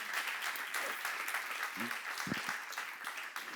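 A congregation at a church seminar on Hebrews 7 claps steadily throughout, a soft continuous patter of many hands with brief faint voice murmurs in the middle.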